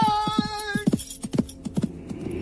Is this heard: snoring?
no